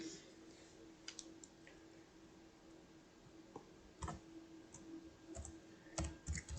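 Someone types a command on a computer keyboard, with sparse, irregular key clicks that grow busier toward the end, heard close and fairly quiet against a faint steady hum.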